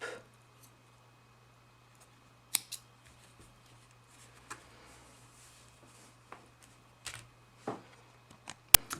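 Scissors snip crochet yarn in a quiet room, with a handful of short, sharp clicks spread across the stretch and nearly silent gaps between them.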